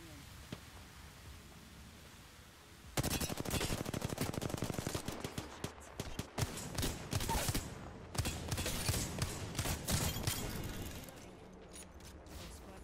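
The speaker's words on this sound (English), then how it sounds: "I'm taking shots. I am taking fire." Rapid automatic gunfire from Apex Legends on PS4 erupts after a quiet start, with sustained dense bursts and overlapping shots, loud and close, continuing nearly to the end with a voice briefly over it.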